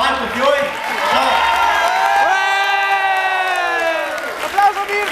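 A crowd cheers and whoops loudly, with shouting voices and some clapping blending into a sustained roar that swells and then breaks into scattered shouts.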